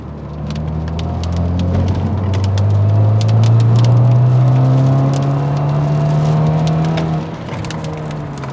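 A BMW F30 sedan with lowered suspension cruises along a street, its engine giving a steady low drone that rises in pitch as it speeds up, with road and tire noise around it.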